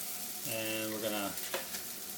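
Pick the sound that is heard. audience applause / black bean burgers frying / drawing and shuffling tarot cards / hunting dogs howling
black bean burgers frying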